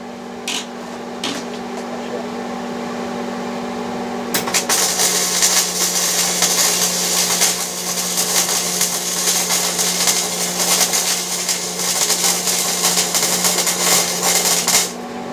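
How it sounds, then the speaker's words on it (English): Welder working on a 1979 Chevrolet Suburban in a garage during a turbo build, with a steady buzzing hum that gives way to a loud crackling, sputtering stretch that carries on to the end. "I told you we was going to use that welder"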